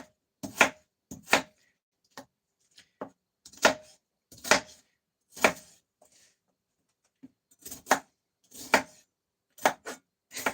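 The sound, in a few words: chopping spring onions by hand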